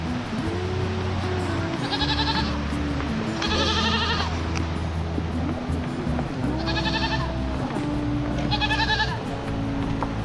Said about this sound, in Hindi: यहाँ पर गाइस बकरा बंधा है